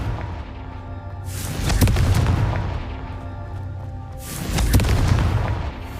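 Two loud booming blasts from the Confringo fire spell in the Hogwarts Legacy video game, each a sharp explosive burst with a rumbling tail, spaced about three seconds apart.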